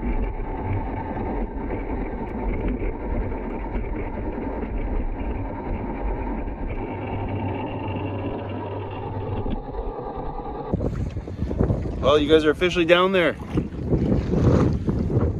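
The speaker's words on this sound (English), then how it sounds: "it's pretty windy out here" Steady wind rushes and buffets against the microphone outdoors near water on Vancouver Island, with a person briefly speaking toward the end.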